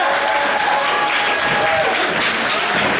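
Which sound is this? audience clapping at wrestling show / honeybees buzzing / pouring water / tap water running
audience clapping at wrestling show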